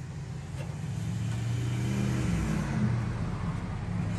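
A 1948 Ford F-5 ice truck, left sitting for about 45 years, turns over with a steady, low engine rumble that swells slightly midway, heard fairly faint and alone.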